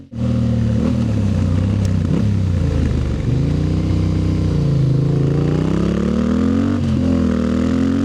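Motorcycle ridden along twisty mountain roads, its engine loud and close throughout, rising and falling in pitch as the rider revs through bends and shifts.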